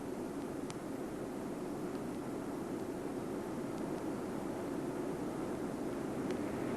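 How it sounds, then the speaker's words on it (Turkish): Steady, loud jet engine roar with broadband rushing noise, constant throughout like an aircraft cabin during landing after a seven-hour flight from Chicago. "Uçak Chicago'dan ayrıldıktan 7 saat ve birkaç dakika sonra zamanında iniyor."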